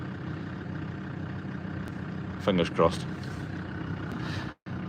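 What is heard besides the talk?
tractor engine running while rolling a grass bog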